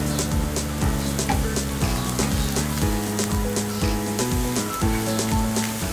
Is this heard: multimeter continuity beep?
no